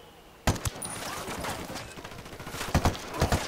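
Gunfire in the tactical shooter Ghost Recon Wildlands cracks out in bursts, with a sharp opening shot, then a scattered volley and several more rapid shots near the end.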